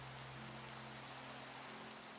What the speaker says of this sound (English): Seriously, why does it have to be raining right now?